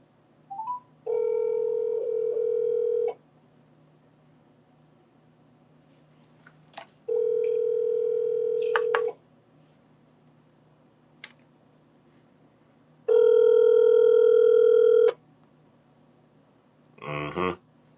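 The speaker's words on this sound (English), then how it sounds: "They don't want to pick up that phone." Telephone call tones: three long steady two-second beeps separated by silence, with a few faint clicks between them and a short burst at the end, clear and alone.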